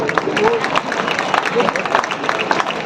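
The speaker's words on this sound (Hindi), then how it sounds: "तालियां बजाइए उनके लिए" Audience at a ghazal singing competition applauding, with many hands clapping in a busy, fairly close patter that carries on steadily throughout.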